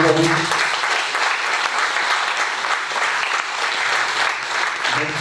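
Sustained audience applause at a mayor's New Year greetings ceremony honoring a prolific blood donor, steady and full-bodied throughout with a faint voice near the start.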